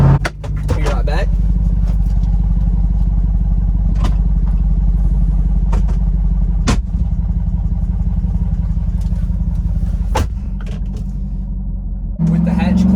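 Straight-piped Jeep Wrangler Rubicon 392 with the rear hatch open, a deep steady idle rumble running throughout with occasional sharp clatters, and a brief rise near the end.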